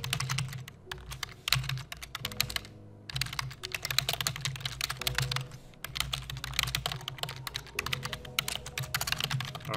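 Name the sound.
typing an email on a computer keyboard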